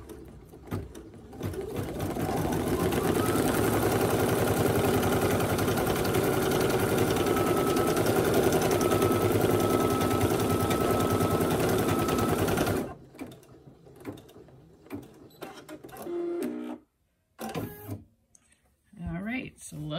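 A Brother SE1900 or PE800 class embroidery machine stitches a snap tab on fabric, a loud, steady rapid whir of needle strokes for about ten seconds, then stopping, with a speaking voice and handling clatter afterward.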